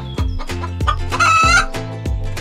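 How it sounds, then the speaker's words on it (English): A chicken clucks in a run of close, sharp repeated calls, with a brief higher crow-like note in the middle, loud and alone. "The chicken."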